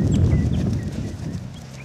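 A horse cantering in a slow, rocking rhythm, hooves thudding steadily on the ground at moderate distance, loud and alone with no talk.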